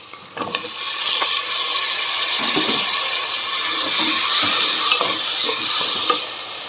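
Chopped tomatoes frying in hot oil for drumstick sambar, a steady loud sizzle with scraping stir strokes at irregular intervals.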